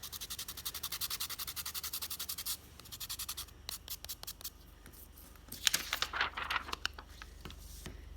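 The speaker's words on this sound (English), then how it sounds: "you can get one of these little sandpaper blocks and kind of sand some of it away." A small sandpaper block is rubbed quickly against a graphite-coated blending stick, making rapid, close, rhythmic scratchy strokes, then pausing before a few slower, irregular scrapes.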